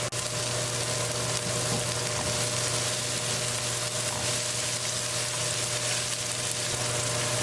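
A jumbo onion frying in olive oil in a pan gives a steady, close, dense sizzle with a low hum beneath it, continuous and without talk.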